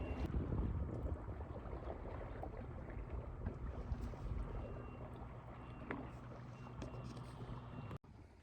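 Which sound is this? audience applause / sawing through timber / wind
wind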